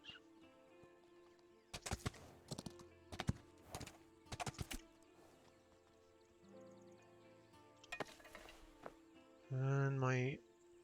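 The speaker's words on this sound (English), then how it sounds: "Get on the horse." Horse hooves clip-clop in a video game, several short bursts of trotting steps spread across the clip over a steady low background, followed by a brief loud tonal sound near the end.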